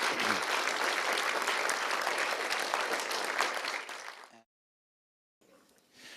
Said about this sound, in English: Let's give Dr. Ordway another round of applause.